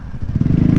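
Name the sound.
superbike passing by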